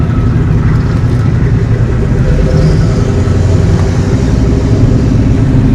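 A 7.3 IDI diesel engine runs steadily while the vehicle drives under its own power, a loud, continuous low rumble with a mechanical clatter that holds even throughout, no voices.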